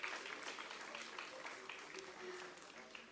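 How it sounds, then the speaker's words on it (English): Audience applause at an industry-academia conclave on steel manufacturing, a dense, even wash of clapping from a large seated crowd that continues throughout at moderate level. "Ladies and gentlemen, huge round of applause to Shri Kundanalal."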